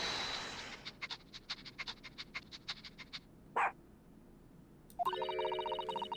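A dog named Toby in The Great Ace Attorney video game sniffs in a quick run of short nasal puffs, then gives a single brief woof, followed by a bright ringing game chime, all fairly quiet.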